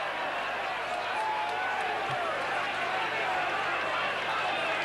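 A steady, loud roar from the crowd at a 1990 Widnes versus Leeds rugby league match fills the whole stretch, heard from a distance beneath a commentator's voice.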